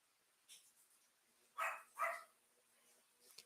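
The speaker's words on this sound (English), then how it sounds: "Roman is barking" A dog barks twice in quick succession, fairly close but modest in level, with a couple of fainter yips or whimpers before and after in an otherwise quiet room.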